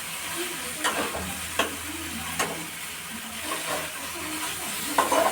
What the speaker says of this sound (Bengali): এরকম করে কিন্তু ভালো করে ভাজা করে নিতে হবে।